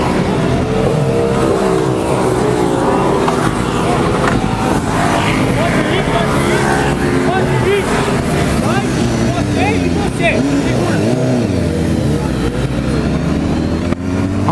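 A BMW S1000RR superbike ridden on a test ride, its engine droning loudly and continuously with rising and falling revs as it accelerates, while a rider talks over it throughout.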